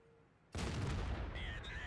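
A tank fires in World of Tanks while an Indien Panzer is played: one sudden, loud blast breaks a quiet moment and rolls into a sustained rumbling decay, with faint in-game tones after.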